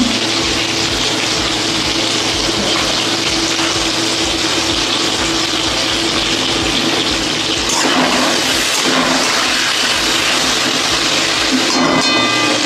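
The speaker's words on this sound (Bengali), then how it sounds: "এখন এতেই টমেটোটা ভেজে নিই।" Tomato fries in hot oil seasoned with salt and turmeric, a loud, unbroken close-up sizzle and hiss that holds steady throughout with no voices over it.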